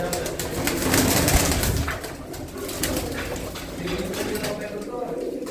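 Pigeons, including a large gifted pigeon, coo steadily nearby under ongoing conversation between men.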